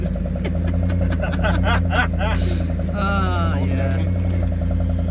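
A $600 Lincoln with a modified intake manifold runner control drives on a test run, its engine droning steadily and loudly from inside the cabin, with brief talk over it.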